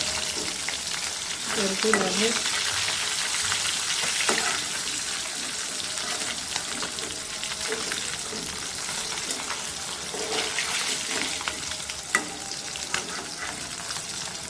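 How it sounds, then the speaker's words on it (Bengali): Pieces of shol fish (snakehead) fry in oil in a pan until reddish, giving a continuous crackling sizzle with occasional stirring and turning noises throughout, no voices. "এভাবে লাল লাল করে আমরা ভেজে নেব"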